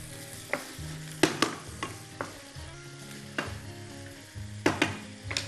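Vegetables fry in a hot pan and are stirred, with a soft steady sizzle broken by repeated sharp scraping and clattering knocks of the utensil against the pan. No one speaks.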